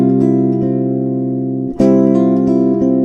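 Fingerstyle guitar playing an arrangement, a sustained bass note held under an F picked on the first string, with a fresh chord struck partway through and ringing on, close and clear with no talking.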